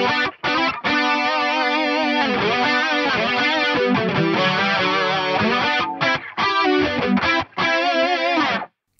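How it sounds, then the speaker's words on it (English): A thick, distorted electric guitar plays sustained harmony lines with a wide, shimmering detuned character, loud and alone, stopping briefly between phrases. "Pan them hard left and hard right, and we get a super fat harmony sound."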